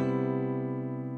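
An electric guitar plugged directly into a Behringer UMC22 audio interface with no amplifier, sounding one sustained chord that rings steadily and slowly fades, alone and close.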